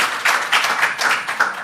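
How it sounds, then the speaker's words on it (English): Audience at a panel session on African electricity markets claps for the panelists, a short burst of moderately loud applause with uneven, pulsing swells and no talk over it. "let's give them a round of applause"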